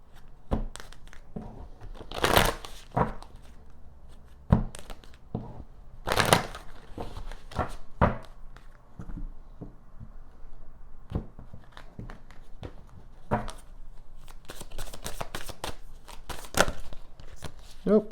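Tarot cards being shuffled by hand, a series of sharp crisp riffling bursts and soft card rustles close up, irregular across the span, with quiet handling between.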